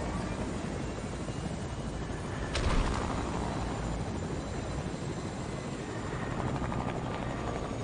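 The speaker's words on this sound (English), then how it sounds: "Let's grab a chopper." Continuous helicopter rotor and engine drone from a chopper in the video game Fortnite, steady and fairly loud, with a brief sharp burst of noise partway through and no talk.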